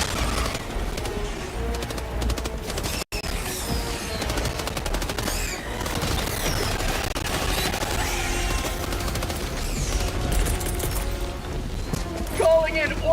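Rapid machine-gun fire rattles through a Helldivers 2 battle in dense, continuous bursts, mixed with other game effects while a player talks over it.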